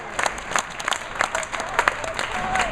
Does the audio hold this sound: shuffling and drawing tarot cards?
no